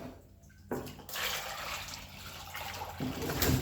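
Water gushes steadily into a container being refilled during a rust-removal cleaning job, a close, continuous pouring wash that starts abruptly and swells again near the end.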